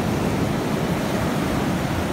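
Sea waves wash steadily onto the shore at Gijón, Asturias, a close, continuous broadband surf roar with no breaks, wind-tinged and filling the whole clip without voices.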